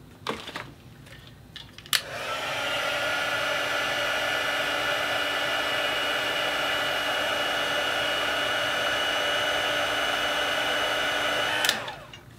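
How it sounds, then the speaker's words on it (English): An electric heat tool blows continuously for about ten seconds while setting embossing powder on a stamped card, a loud steady fan whine that clicks on and off at either end. "And then I will heat set it with my heat tool"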